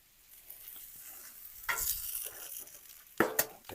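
Green peppers and onions hitting a hot Blackstone griddle, a sizzle that swells suddenly partway through alongside scraping and stirring, with sharp spatula clicks near the end, fairly quiet and close with no talking.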